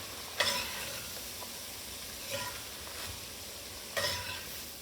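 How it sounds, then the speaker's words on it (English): Flour stirred into vegetables sizzling in butter in a pan, for a rotisserie chicken stew: a steady soft frying hiss with three brief scraping stir strokes, close and moderately quiet, no talking. "Now I'll sprinkle about 1/4 cup of flour over the vegetables. And let that flour dissolve into the butter."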